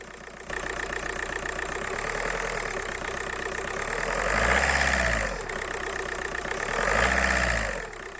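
A just-repaired engine idles loudly and close, its steady throbbing rising in two brief revving swells, with no talking over it.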